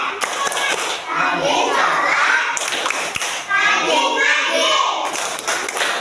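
Children in an Islamic religion classroom clap in rhythm while chanting together, a lively group of young voices with steady hand claps throughout.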